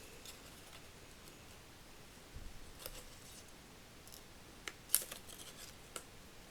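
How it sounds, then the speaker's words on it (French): Scissors cut paper while a greeting card with a small mermaid design is made, giving faint, sparse snips and rustles, a few sharper clicks among quiet room noise. "Si j'arrive à prendre le papier pour les couper."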